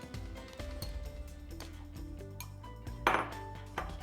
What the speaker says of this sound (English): now I'm going to use a pastry blender to cut in some cold butter